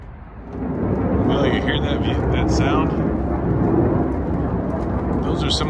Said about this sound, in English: Military jet.